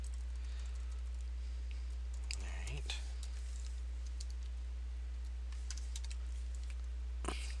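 Soft keyboard typing in short clicky bursts at low level, with a louder clatter near the end and brief voice-like noises.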